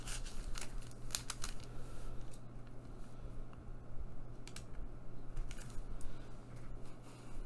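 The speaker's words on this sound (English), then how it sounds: "Let me trim off 3/4 of an inch." Scissors trimming three quarters of an inch off lunch bag material for an oriental shoji screen craft, producing several quick crisp snips in short bursts over a steady low hum, close by.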